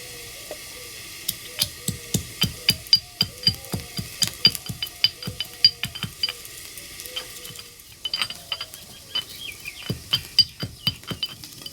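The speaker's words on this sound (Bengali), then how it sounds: "ভাজা মশলাটা ঠান্ডা হয়ে গেছে, আধ ভাঙা করে গুঁড়ো করে নেব।" Roasted spices are coarsely ground in a quick, steady run of hard knocks and clinks, with a brief pause partway through before the rhythmic pounding resumes, close and with no speech.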